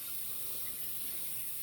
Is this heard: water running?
yes